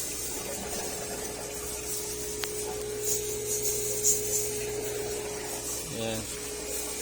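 Steady rush of an aquarium water pump pushing flow up into an overhead sump, a constant hum and watery hiss with a brief gurgling burst near the end.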